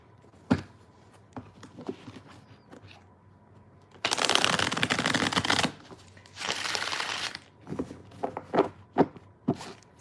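Tarot cards are shuffled close up in two loud riffling bursts, with scattered taps and soft handling clicks of the deck before and after.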